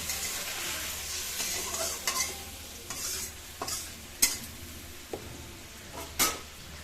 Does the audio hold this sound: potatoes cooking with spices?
yes